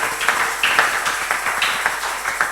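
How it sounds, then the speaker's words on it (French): A church congregation claps steadily through a Sunday service, many hands making a dense, bright patter with slightly accented beats, fairly close and continuous with no talking. "Pouvez-vous le manifester en applaudissant pour notre Dieu?"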